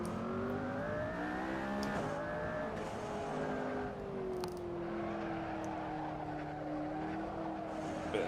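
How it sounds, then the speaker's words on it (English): High-revving engine of an F1-team-built road car lapping Barcelona's circuit, with rising and falling gear pulls, brief wastegate whooshes and tyre squeal, heard from on board at a moderate, continuous level. "See that wastegate blowing off. Beautiful noise."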